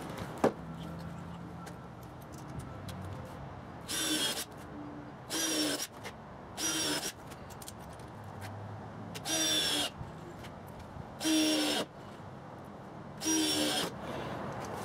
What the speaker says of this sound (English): Go ahead and screw down some more screws to attach it to the 2x4s.